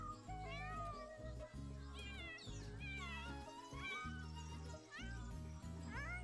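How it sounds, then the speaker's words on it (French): A cat in a video game meows repeatedly in drawn-out, sliding cries over a steady low game music bed, close and prominent. "C'est un chat de Salvadorada."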